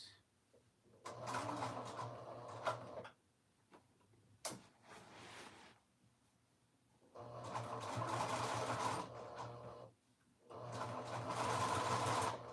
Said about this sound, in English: now I'm sewing this down